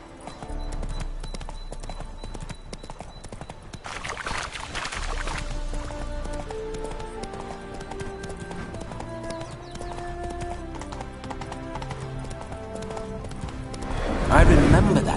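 The horse Roach in The Witcher 3: Wild Hunt, Hearts of Stone, clip-clops along in a steady trot, whinnying loudly near the end, with voices talking over the hoofbeats.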